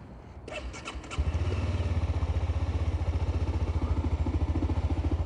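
A Honda CBR300R motorcycle starts up: a short whirring starter crank with some clatter, then the engine catches into a steady, fast, pulsing idle that stays loud and close, with no talk.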